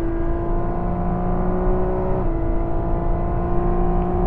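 A car engine runs loud and close on a racing circuit during a driving lesson, a steady droning hum with a slight shift in pitch partway through.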